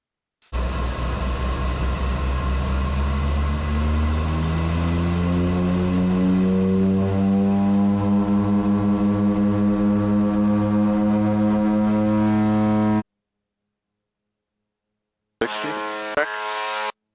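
A propeller airplane accelerates down the runway at remote Lutselk'e Airport on its takeoff roll. A loud, steady engine drone rises in pitch for about twelve seconds, then cuts out, followed by a brief burst of similar engine sound.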